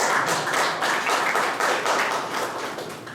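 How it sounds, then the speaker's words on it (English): An audience at a motivational talk claps steadily in a continuous round of applause, fairly close and filling the room. "give him a round of applause."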